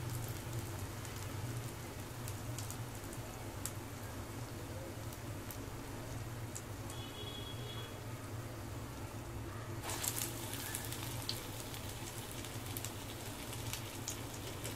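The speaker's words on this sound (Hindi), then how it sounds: "अब मैं इसमें वड़े तलते जा रही हूँ।" Lentil vadas sizzle in hot oil over a low flame, a steady, soft crackling hiss that continues evenly throughout with no voices.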